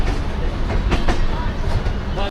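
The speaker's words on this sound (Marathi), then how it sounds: "ट्रेन निघाले." A train rolls away from a station on the Ratnagiri–Chiplun route in Maharashtra, with steady low rumble and rhythmic clickety-clack of wheels over rail joints, close and continuous.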